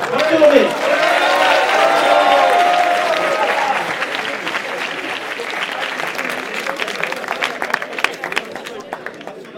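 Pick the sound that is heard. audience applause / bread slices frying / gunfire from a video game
audience applause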